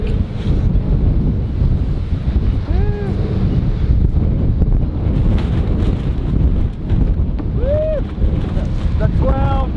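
Strong wind roars across the microphone at the Port of Edmonds, Washington, with a constant rumbling buffet over waves and surf, and a few faint bird calls come through the gusts.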